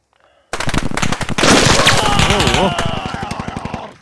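Heavy automatic fire from a distant vehicle-mounted weapon in Squad, a loud rapid burst of shots that starts suddenly and continues steadily, with other weapon reports layered in and tapering off at the end.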